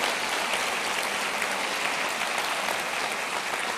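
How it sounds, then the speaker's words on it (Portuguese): A church congregation claps in praise, a dense, steady roar of applause from many hands that stays even throughout, with no speech over it. "Pode aplaudir o Senhor, louvando a Ele pela sua palavra."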